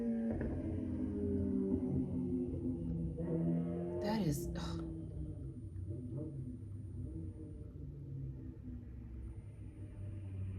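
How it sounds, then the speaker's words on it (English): Sport motorcycle, a crotch rocket, passing along a residential street, its engine rumbling with rising and falling pitch under a man's short spoken remarks, then fading to a low drone. "Oh no, crotch rocket."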